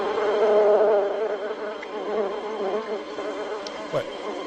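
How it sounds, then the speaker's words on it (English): Swarming killer bees from a film drone in a dense, steady buzz that hangs loud and close at first, then eases slightly, with a few faint sharper chirps near the end. "there's bees. Let's get the hell out of here."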